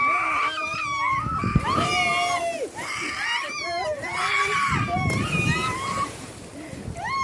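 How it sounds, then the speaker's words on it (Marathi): Village children swim in a well with clear blue water, their splashes and sloshing mixed with loud excited shouts and screams that echo close by, shrill and continuous throughout. "सगळे पोहण्याचा आनंद घेत आहेत."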